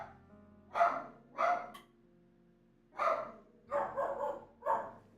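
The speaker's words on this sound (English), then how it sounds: "there's another dog barking" A dog barks five times in uneven bursts, the close, loud woofs separated by short pauses, with a quiet room behind.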